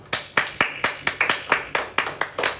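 Steady rhythmic hand clapping in a classroom, about a dozen sharp claps at an even pace, close and fairly loud with no talking.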